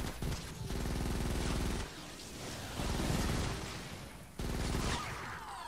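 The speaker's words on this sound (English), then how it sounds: "I can even shoot right down the hole" The Crackshot gun firing in Fortnite Save the World, loud sustained bursts of rapid shots in several long runs separated by short breaks.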